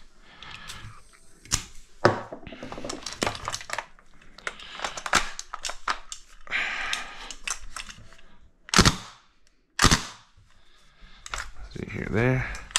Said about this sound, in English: If you need a dry fire, or if you want to dry fire, there's a little button right here.